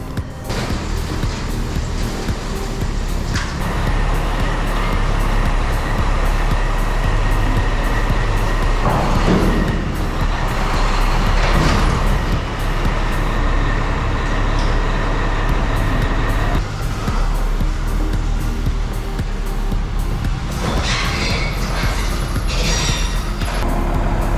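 A farm truck engine fires up and runs steadily at close range, a dense continuous mechanical rumble with a brief louder surge partway through and no talk over it.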